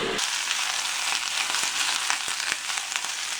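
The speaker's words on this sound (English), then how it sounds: "Sauteing some ham, and here's my noodles." Ham sautéing in a pan for tonkotsu ramen, a steady close sizzle and crackle with a few small pops throughout.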